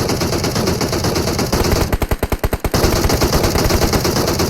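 Rapid automatic gunfire in the mobile battle royale game PUBG Mobile, a sustained close burst of evenly spaced shots standing out from a dense, noisy game background.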